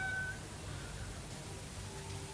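A cat meows faintly in the background early on, with a thin tonal call over a low steady hum and no talking.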